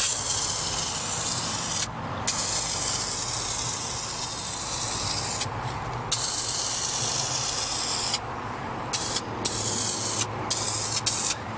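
Loud, close hissing bursts of dye sprayed onto car carpet and upholstery, several long continuous sprays separated by short pauses.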